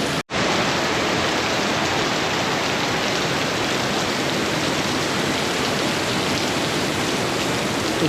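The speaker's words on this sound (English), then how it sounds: "An afternoon deluge" Heavy afternoon downpour in Kota Kinabalu, Malaysia, a dense, steady roar of rain that holds loud and unbroken throughout after a brief drop at the very start.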